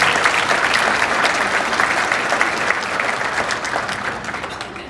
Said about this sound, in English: let's a round of applause for all 5 of our finalists